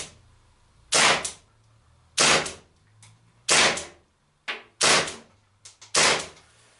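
Six sharp, loud pops of an Umarex HDR.50 CO2 revolver firing at a target about 6 meters away at irregular intervals, each with a quick decaying tail, with no talking.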